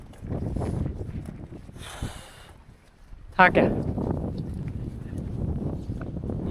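Strong wind buffets the microphone outdoors at Kalu Waterfall in Malshej Ghat, Maharashtra, as a low, gusty rumble. People talk throughout, and a sharp gust surges midway.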